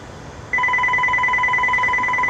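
A telephone being dialed to place a call, heard as a steady two-tone dial or ringback signal that starts abruptly after a brief quiet moment and holds clearly and alone.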